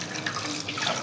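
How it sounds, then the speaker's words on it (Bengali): Tap water runs and splashes into a sink while food is rinsed in a kitchen, a short steady pour with light dripping and no talking. "ভালো করে ধুয়ে নিচ্ছি।"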